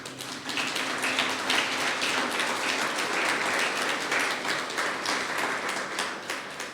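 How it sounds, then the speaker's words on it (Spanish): A congregation at a church service claps in a loud, sustained burst of dense applause, steady from start to finish. "¿Por qué no das un fuerte aplauso a Dios?"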